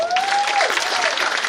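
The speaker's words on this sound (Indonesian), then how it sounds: "Ketua Yanto, mana tepuk tangannya?" Audience applause at a political campaign declaration and election registration event, a dense burst of clapping from a crowd, loud and sustained throughout with a faint tonal ring over it.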